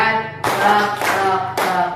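A group claps hands in a counting rhythm during a classroom chant, with three crisp bursts of clapping over a sustained tonal voice or music.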